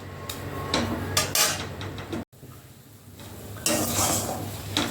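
Sweet filling for puli pitha, a sandesh-style mixture, is stirred in a pan over low flame, giving clattering scrapes and knocks of a utensil against metal with a brief pause midway and no talk.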